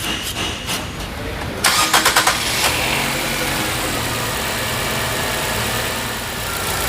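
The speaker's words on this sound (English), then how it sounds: "We're gonna start it up and see how it runs." A car engine with newly fitted aftermarket spark plugs cranks in a few quick rhythmic turns, catches and settles into a steady idle, loud and close, after a short stretch of quiet shop noise.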